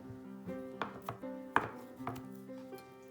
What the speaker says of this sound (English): Take the butter and cut it up into smaller pieces.